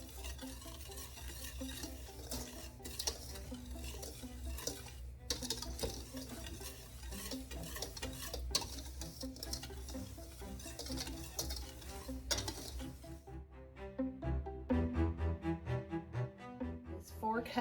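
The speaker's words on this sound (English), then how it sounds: "I'm just going to whisk that together." A whisk stirs cherry pie filling mixture made with strained cherry juice, giving a steady rapid scraping and swishing in a bowl, close and continuous, with a voice talking over part of it.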